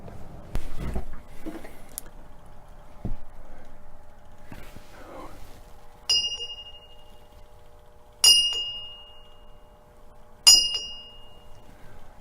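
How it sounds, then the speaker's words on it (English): Three bright metallic rings sound a couple of seconds apart, each with a lingering ringing tone, over quiet rustling and soft movement. "Of course, the bell is ringing"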